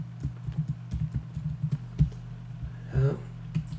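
Calculator keys pressed in a steady run of light taps, close and clear over a low electrical hum, with a brief voiced sound partway through.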